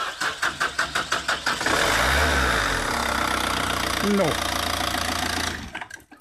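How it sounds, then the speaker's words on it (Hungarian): An Isuzu-built Opel diesel engine, about a week old, cranks in several rhythmic turns under a LiPo jump starter, catches and settles into a steady idle nearby; a voice speaks briefly over it. "Ez egy egyhetes Isuzu dízel Opel motor."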